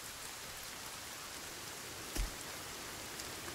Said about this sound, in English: Oh, of course it rains.